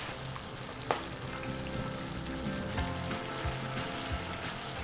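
Braised noodles with flat green beans stir-frying in a hot pan, a steady close sizzle with occasional scrape and clack of a utensil stirring, no talking.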